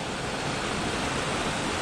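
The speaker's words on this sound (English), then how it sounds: "Bunch of little baby waterfalls too." Small waterfalls at Bridal Veil rush as a continuous, dense broadband wash of falling water, steady and fairly close, with no voices.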